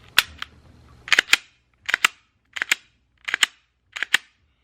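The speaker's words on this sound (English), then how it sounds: "The slide, pull back, give it a couple runs, dry fire." A .45 ACP pistol's slide is racked and dry-fired: five crisp metallic clack pairs in a steady rhythm, close and loud, after one sharp initial click.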